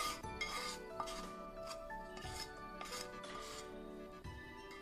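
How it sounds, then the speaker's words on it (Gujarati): Ground peanuts and ghee-roasted water chestnut flour are stirred together in a bowl, with soft repeated rubbing and scraping strokes and occasional light clinks of a spoon against the vessel, close and quiet. "અને બંનેને આપણે મિક્સ કરી લઈએ પહેલા."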